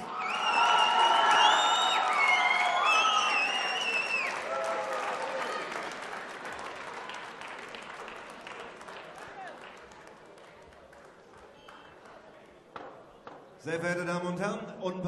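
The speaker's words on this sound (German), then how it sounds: "Aus Regensburg, Deutschland, ihr Applaus" Crowd at an IBF Intercontinental title boxing event applauding and cheering a fighter's ring introduction, loud at first with whoops and excited voices, fading to a lower roar before a burst of renewed cheering and shouting near the end.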